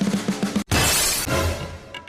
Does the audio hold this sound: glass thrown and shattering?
yes